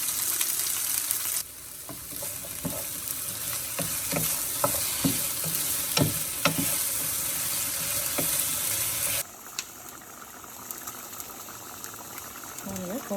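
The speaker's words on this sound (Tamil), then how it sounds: "இப்போ பாத்திரத்தில் எண்ணெய் வச்சு கடுகு உளுந்து தாளிச்சிட்டு வெண்டைக்காய் போட்டுக்கணும். நல்லா வதக்கணும்." Okra sautéing in oil with mustard seeds and urad dal, a bright sizzle broken by repeated spatula scrapes and taps, close and steady, with the hiss dropping away near the end.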